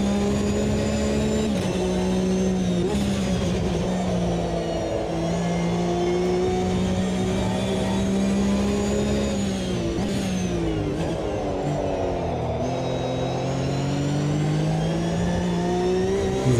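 Porsche 911 GT3 Cup engine in the Automobilista 2 racing game at Hockenheimring, a continuous loud mid-pitched drone rising and falling through gear changes and revs for the whole stretch, with no talk over it.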